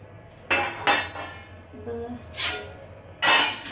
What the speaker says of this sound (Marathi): पहिलं भांडे आवरून घे